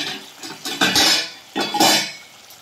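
A pot lid clanks open and a utensil scrapes and stirs chicken kosha in a metal pan over low heat, in two clattering bursts up close.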